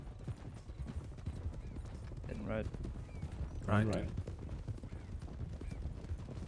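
Hooves clip-clop steadily and close by as a temperamental horse moves under its rider, with a couple of short whinnies breaking through and a voice speaking briefly.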